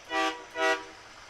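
Two short, loud honks ring out from a tow truck rig rolling in a Christmas parade, a brief double blast close by with a small pause between.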